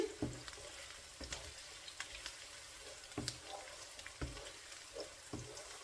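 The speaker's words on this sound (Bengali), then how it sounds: "পেঁয়াজটাকে আমি একটু লাল করে ভেজে দিচ্ছি" Onions fry to a reddish brown in a pan for chicken curry, a soft sizzle broken by repeated stirring scrapes and clacks in an irregular rhythm, quiet and close.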